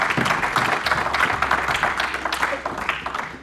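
A church congregation breaks into applause during a French-language sermon, a dense, close patter of clapping with voices mixed in throughout.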